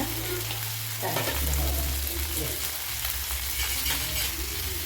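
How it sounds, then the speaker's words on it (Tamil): Ayala mackerel fish frying in hot oil, a dense continuous sizzle heard close up, with a low rumble and faint stirring underneath and no talk. "இது 2 சைடும் இந்த மாதிரி பரட்டி போட்டு ஃப்ரை பண்ணிக்கோங்க"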